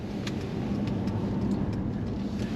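A Mercedes-Benz E300 petrol saloon (A238) cruises down a motorway, its engine and road noise forming a steady, low, broadband rumble heard from inside the cabin without talk.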